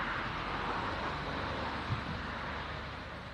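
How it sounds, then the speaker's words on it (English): A steady, faint wash of road traffic comes from a nearby main road in a field, a constant broadband hiss with no clear individual vehicles. No one speaks. "Sorry about the road noise, by the way."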